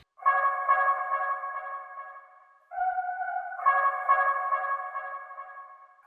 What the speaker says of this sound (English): I added this delay automation to give it a longer tail in the second part